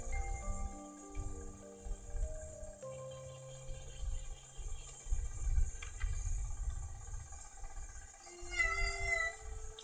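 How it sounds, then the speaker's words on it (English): An indoor pet cat lets out long, drawn-out yowls and meows that rise and fall in pitch, loud and close over a low background hum, with no talking. "my cat is losing his brain again"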